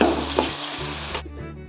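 Tomato sautes with red chilli powder and turmeric in a close, loud pan sizzle broken by stirring scrapes, with a low hum underneath and a sudden drop in the hiss near the end.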